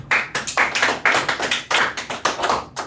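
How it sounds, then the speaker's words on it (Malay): A group claps together in quick rhythmic bursts, roughly three claps per second, during a fire safety training class; the sharp, fairly loud claps have no talk over them. "Tepuk tangan"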